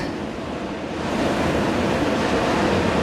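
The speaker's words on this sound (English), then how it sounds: "The waves are whipping up quite" Waves crashing and churning on Chemical Beach along the Seaham seafront, a dense, continuous roar at close range with wind buffeting the microphone and swelling louder partway through.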